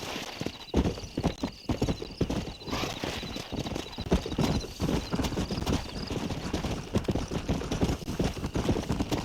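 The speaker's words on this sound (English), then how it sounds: "We got some fine horses." Horses gallop in the Red Dead Redemption video game, with fast, close, continuous hoofbeats pounding throughout and a whinny breaking through.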